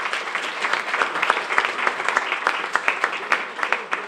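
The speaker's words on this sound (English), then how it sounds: "So let's give them a round of applause." An audience gives a lively round of applause, many hands clapping in a dense, fairly close burst that swells and pulses for several seconds.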